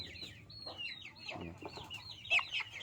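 Brahma chickens cluck and squawk softly nearby, making a scattered run of short, raspy calls with one louder squawk near the end over faint background noise.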